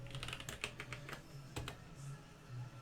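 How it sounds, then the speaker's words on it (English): Quiet keystrokes on a computer keyboard tap out an irregular run of clicks at close range, soft and even in level with no talking. "Now you might be able to see what I'm typing."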